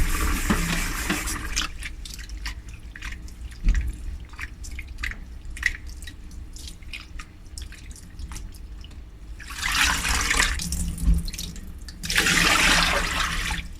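Dried white anchovies (ikan bilis) are rinsed in a home kitchen with sporadic drips and splashes of water, and two louder bursts of tap water run near the end. The sound is close, and nobody speaks.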